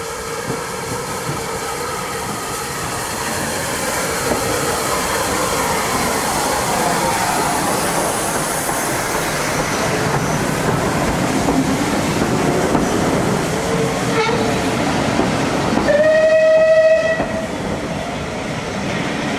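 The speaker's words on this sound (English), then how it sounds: "we've got the train coming in from Bewdley, and the Bridgnorth train can't leave until this one's come through." A heritage steam-era train rolls into a Severn Valley Railway station passing loop, a steady rumble and rail clatter building up close, then a high horn or whistle sounds briefly near the end.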